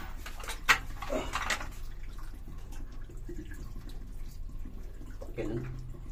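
Water trickles and drips inside a tunnel during a hunt for a hidden deposit, a quiet, continuous flow with a few sharper splashes near the start.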